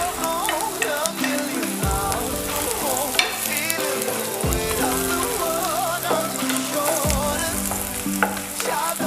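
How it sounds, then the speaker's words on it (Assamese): Carrots sizzle and fry in ghee in a pan for vegetable pulao, a loud steady crackle with occasional stirring scrapes and some tonal background music, no voices. "ফাৰ্ষ্টতে মই ভাজি ল'ম গাজৰ।"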